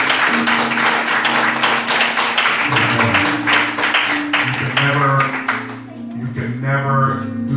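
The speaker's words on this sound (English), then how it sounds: "So let's give a round of applause for your leader." A church congregation at Resurrection Center in Springfield, Massachusetts claps steadily for its pastor. The dense applause runs through the clip, with music and voices carrying on underneath and the clapping thinning toward the end.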